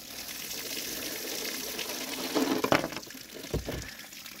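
Water is poured out of a jug used to catch a 9mm projectile, first as a low background trickle, then a louder splashing gush that peaks near the middle and tails off with a couple of final splashes.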